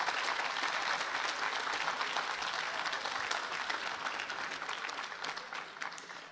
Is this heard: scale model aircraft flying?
no